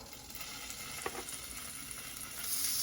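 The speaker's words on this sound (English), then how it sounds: "Now in goes our steak strips. Sizzle, sizzle." Steak strips sizzle steadily in a hot skillet, a continuous crackling hiss with a few small pops, growing slightly louder toward the end.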